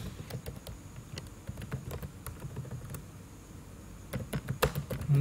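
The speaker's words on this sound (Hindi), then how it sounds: "टाइपिंग स्पीड मेरी तेज़ नहीं है इसलिए गलत लिखा जाता है" Typing on a computer keyboard, irregular bursts of close key clicks with short pauses and a quick flurry near the end, no talking.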